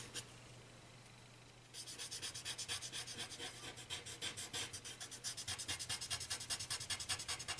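A big eraser rubs across a pencil drawing on paper, starting after a brief quiet moment and then becoming rapid, rhythmic back-and-forth scrubbing strokes, close and steady.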